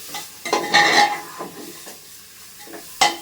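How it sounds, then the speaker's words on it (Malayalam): Chicken bones being stirred in a pot of curry with ash gourd: a few scraping, clattering stirs in bursts close by, with short gaps between them and no talking. "നന്നായി ഒന്ന് ഇളക്കി"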